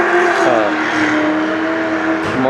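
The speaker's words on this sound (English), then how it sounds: "More people peeling out of the..." A car revs hard and roars through a burnout at an outdoor car show in Mesa, Arizona, its engine note climbing and falling in loud, continuous sweeps with rising harmonic whine close by.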